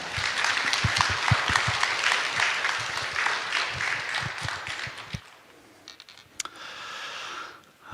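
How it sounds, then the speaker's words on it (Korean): A church congregation applauds at a dedication thanksgiving service to welcome the pastor, dense sustained clapping filling the hall for about five seconds before thinning out to a few scattered claps and quiet room noise. "목사님 나오실 때 따뜻한 박수로 같이 환영하겠습니다"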